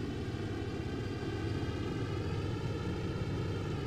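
Steady, droning engine hum from a Junkers Ju-88 twin-engine bomber in the IL-2 Sturmovik flight game, cruising at about 630 meters with throttle and propeller pitch eased back, close and continuous with no break.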